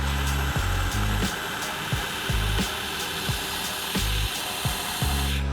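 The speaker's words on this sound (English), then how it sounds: "maybe it just might be faster to just straighten it up on the grinder" A belt grinder with a large platen squares up the end of a metal tube, a steady loud abrasive whine broken by repeated short dips as the tube is pressed on and lifted off.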